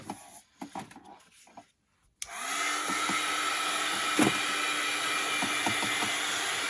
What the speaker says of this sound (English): we're going to heat this real fast with the heat gun